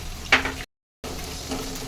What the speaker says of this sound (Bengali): ক্যাপসিকাম আর পেঁয়াজটাও ভাজা হয়ে গিয়েছে